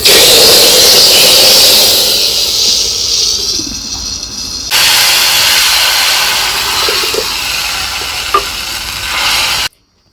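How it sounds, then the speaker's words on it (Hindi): Red chilli and curry leaves hit hot oil for a tadka on kadhi in a Rajasthani village kitchen, giving a loud, steady sizzle that drops briefly, surges again with light stirring clinks, then cuts off. "और यहाँ लगेगा तड़का।"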